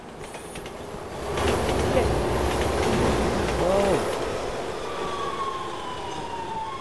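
A train rushing past in the video game Resident Evil 6, a sustained loud rumble with rattling and squeal swelling over a few seconds before easing off, as a player reacts briefly underneath.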